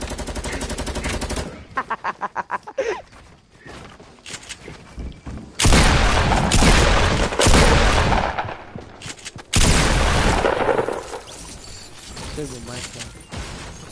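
Rapid bursts of automatic rifle fire and mechanical clatter in a battle royale video game, loud and close, with long sustained volleys broken by pauses, while players talk over it.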